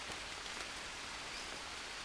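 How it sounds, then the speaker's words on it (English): Steady rain falls in the jungle survival game Green Hell, a dense, even hiss of drops on surfaces with no pauses or voices over the short stretch. "It's raining right now."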